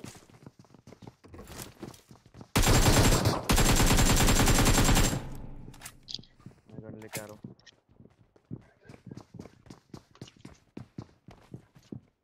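Automatic gunfire erupts in a loud, dense burst of a couple of seconds during a BGMI battle-royale gunfight, followed by a run of quick, sharp clicks and steps, with voices talking over the game.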